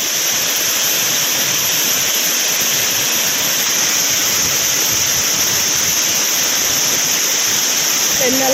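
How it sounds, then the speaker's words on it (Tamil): A flooding waterfall roars during light drizzle, a steady, loud, dense rush of falling water filling the whole scene without a break. "அனைத்து அருவிகளிலும் வெள்ளப்பெருக்கு ஏற்பட்டுள்ளது"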